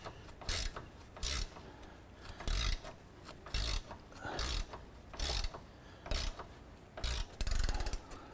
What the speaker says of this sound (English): we're using a 14mm gear wrench to go ahead and remove this nut